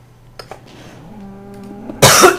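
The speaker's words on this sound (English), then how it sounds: "Oh, sorry, I'm coughing a lot." A single loud, harsh cough bursts out close to the microphone after a quiet stretch with a faint hum, followed by a brief second rasp.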